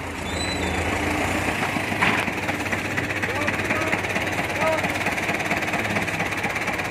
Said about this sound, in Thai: จะเอารถไถดันนะครับ